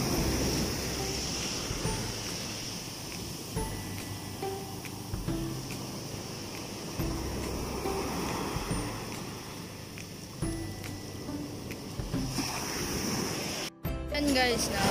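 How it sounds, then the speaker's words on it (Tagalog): Strong sea waves surging on a shore during a coastal outing, a steady loud wash of surf with wind buffeting the microphone throughout. "Tapos, ang lakas ng alon ngayon."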